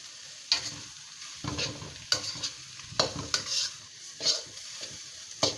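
Eggs stir-fried in a hot pan with chili fish sauce and herb leaves, giving a close, lively sizzle broken by repeated scraping strokes of a spatula in an uneven rhythm, with no voices.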